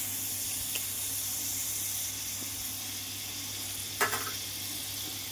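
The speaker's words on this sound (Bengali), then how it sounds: "কড়াটা গরম হয়ে গেছে, আমি একটু মাখন" Butter sizzling in a hot kadai before paneer and spinach go in, a steady low hiss throughout with a brief clatter near the end, no voices.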